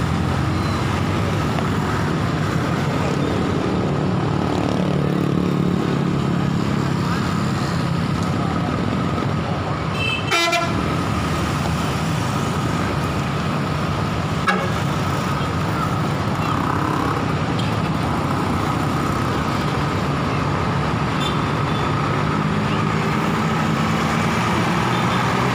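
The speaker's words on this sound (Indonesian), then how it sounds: "Bus LS dengan nomor pintu 33 sudah mau meninggalkan Kota Salak menuju" An ALS intercity bus pulling out of a busy night-time ticket station in Padangsidimpuan, bound for Medan, its engine rumbling steadily amid loud roadway noise, with a sharp clunk partway through and faint voices in the background.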